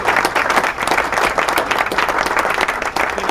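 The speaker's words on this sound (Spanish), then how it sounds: "le decimos a Hernán a ver si puede poner un aplauso para Patricia," Studio applause plays on a Spanish-language radio program, a dense, steady burst of many hands clapping that fills the clip at full loudness with no talk over it.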